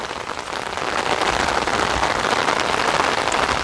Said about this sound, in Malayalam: മഴ ചെറുതായിട്ടിങ്ങനെ പെയ്യുന്നുണ്ട്.